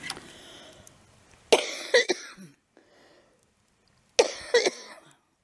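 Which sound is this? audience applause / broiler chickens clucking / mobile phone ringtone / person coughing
person coughing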